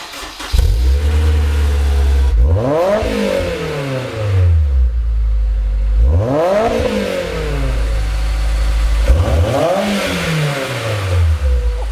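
A Honda S2000 sports car engine with an aftermarket exhaust starts and revs hard three times, each roar rising sharply then dropping back to a loud, rumbling idle between bursts.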